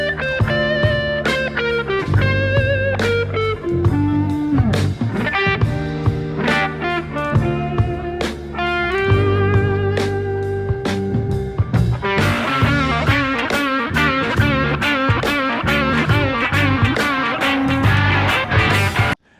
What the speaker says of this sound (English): His tone has a little more lo-fi distortion and warmth on it.